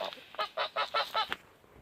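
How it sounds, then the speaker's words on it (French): A Toulouse goose honks five times in a steady run, loud and close, then falls silent. "Mes oies de Toulouse"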